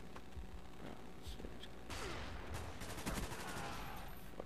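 Rapid automatic gunfire in a shooter video game, a dense burst of overlapping shots in the second half over a busy game mix, with faint quieter pops earlier.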